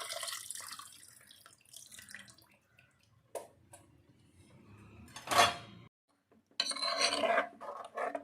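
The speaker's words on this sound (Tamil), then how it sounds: "அந்த தண்ணியை இதோட சேர்த்துடலாம்." Tamarind water is poured into a pan of fish curry in a few splashing bursts, with faint clinks of metal utensils between pours.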